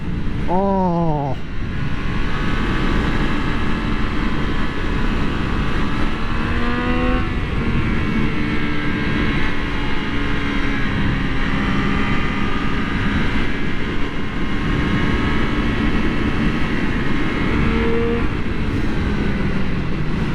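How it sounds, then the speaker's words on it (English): A 2024 Triumph Street Triple 765 RS three-cylinder motorcycle engine runs with a steady, loud drone throughout, with brief rev swells that bend its pitch near the start and again midway. "that's what I love about these 3-cylinder engines"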